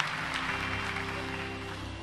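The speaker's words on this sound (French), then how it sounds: "un bel applaudissement" Soft, steady applause from a church congregation during a sermon, a brief wash of clapping heard faintly behind a humming, organ-like tone.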